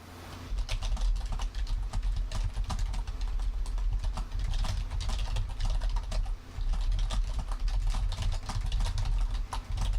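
Rapid typing on a computer keyboard, continuous clicking keystrokes close up for the whole stretch, with brief pauses.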